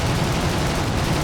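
Rapid, loud burst of machine-gun fire from a BF 109 F-4/trop fighter in War Thunder arcade air combat, dense and continuous with no speech.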